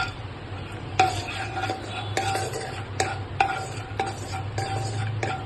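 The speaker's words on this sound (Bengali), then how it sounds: "কড়াইতে তেল দিয়ে প্রথমে চীনাবাদামগুলোকে ভেজে নেব।" Peanuts fry in oil in a wok under a low sizzle, while a spatula strikes and scrapes the metal pan in a rhythm of roughly one stroke per second.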